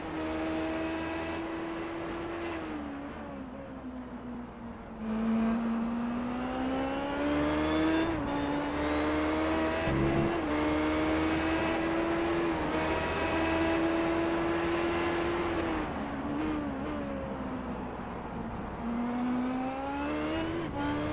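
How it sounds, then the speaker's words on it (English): An IndyCar racing engine at Motegi, heard on board as the driver shifts down through second to fifth gear; a loud, continuous high-revving whine whose pitch falls and rises with each gear change, alone without talk. "listen to the engine note for this car as he comes down into 2 and 3 and then 4 and 5"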